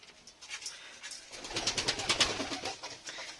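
Pigeons coo near at hand in a loft with white and black lakka pigeons, soft repeated throaty coos that grow fuller and busier toward the end, with no talking.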